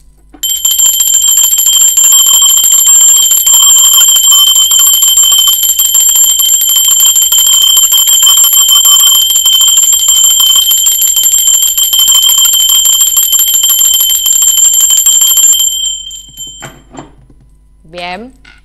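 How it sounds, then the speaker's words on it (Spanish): A bell rings continuously in a bright shimmering sustained tone for about fifteen seconds, loud and close, then stops, followed by a brief trailing sound. "ahora va campana."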